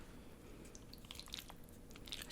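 Soft close-up biting and chewing on a Korean home-cooked meal of whole-shrimp sandwich and Napolitan pasta, faint crunchy and squishy mouth sounds in a quiet room with no talking.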